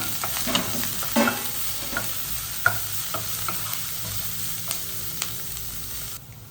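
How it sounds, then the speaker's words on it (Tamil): Onion and curry leaves sautéing in a pan for broad bean poriyal, giving a continuous close sizzle with light spatula taps and scrapes, then cutting off near the end. "வெங்காயம் கருவேப்பிலை எல்லாம் சேர்த்து நல்லா வதக்கிக்கோங்க"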